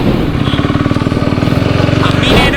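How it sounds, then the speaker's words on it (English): Harley-Davidson motorcycles start up and idle, a loud, close engine with a rapid pulsing throb that carries through the whole stretch and rises slightly at the end. "So starting our bikes, we are moving out."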